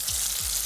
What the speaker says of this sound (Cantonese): We'll do the same 4-minute fry for the second batch of fish.